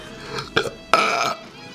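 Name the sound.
burp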